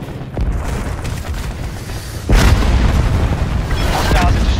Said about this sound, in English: Enemy hellstorm detected.